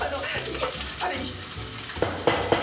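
Salmon fries in a pan with a steady, close sizzle and crackle, joined near the end by a few light scrapes or taps.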